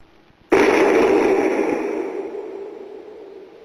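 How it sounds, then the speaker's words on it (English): A single sharp bang goes off suddenly, then its loud reverberant tail slowly decays over the next few seconds. "that sounded like a gunshot"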